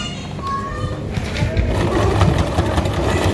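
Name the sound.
small sewing machine stitching an elastic waistband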